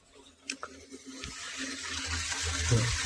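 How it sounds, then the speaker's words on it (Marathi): Water runs and gushes into a container for mixing cow-dung manure, the pour growing fuller and steadier toward the end after a few knocks and clanks. "हे फुल भरून घेऊ एकदा पाणी"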